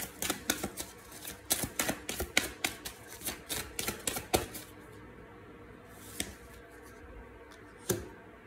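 Tarot cards are shuffled in a rapid, close run of crisp flicks and riffles, then slow to a few separate soft snaps as single cards are drawn and laid down.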